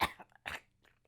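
A person coughs up hairs after eating cotton candy, two rough, close coughs about half a second apart followed by faint throaty rasps.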